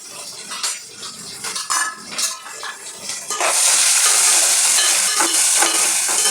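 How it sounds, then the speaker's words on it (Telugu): Onions tipped into a pan of hot oil with tempering seeds and curry leaves: a few clinks of utensils on the pan first, then a sudden loud, steady sizzle that carries on to the end. "తాలింపు గింజలు కరివేపాకు వేసుకున్న తర్వాత నేను కొంచెం ఆనియన్స్ అయితే వేసుకుంటాను"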